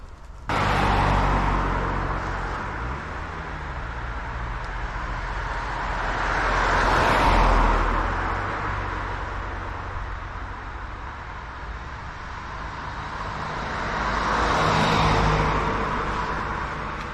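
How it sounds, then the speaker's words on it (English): Cars pass on a main road near a commuter station in Surrey, two clear swells of tyre and engine noise rising and fading over a steady traffic rumble, heard up close at the roadside. "the coincidental passing of 3 cars when I cross the road"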